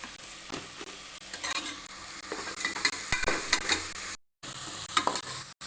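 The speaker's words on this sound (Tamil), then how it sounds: "மல்லித்தூள் சீரகத்தூள் மிளகுத்தூள் சேர்த்து நல்லா வதக்கிடலாம்" Coriander, cumin and pepper powders sauté in a pan for chicken soup, a dense crackling sizzle with frequent close stirring scrapes, cut by a brief drop to silence near the end.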